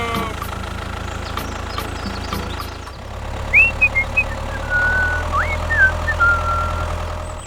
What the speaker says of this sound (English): The crane has arrived.